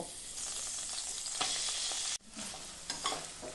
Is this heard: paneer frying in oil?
yes